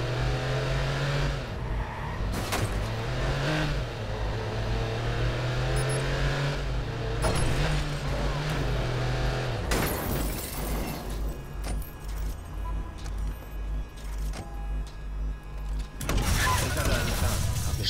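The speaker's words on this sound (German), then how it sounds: "die Karre ist so schwer zu beherrschen." A heavy, hard-to-control car in the Watch Dogs video game roars with its engine rising and falling in pitch, then tires skid and squeal in a loud, sustained stretch.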